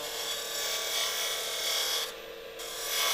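A steady, harsh rasping scrape of a dulling lathe tool cutting a spinning hardwood pen blank, close and continuous, dipping briefly in loudness before resuming.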